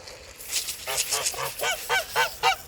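Geese in a poultry coop honk in a quick series of loud, nasal calls, roughly eight or nine close-up honks in irregular succession.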